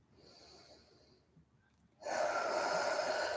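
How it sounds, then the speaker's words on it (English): Loud, close breath rushes out in a long, steady exhale after a quieter, airy inhale, during slow, deep breathing in a calm night-time relaxation yoga session. "Three more breaths here."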